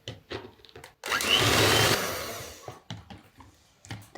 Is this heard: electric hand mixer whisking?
yes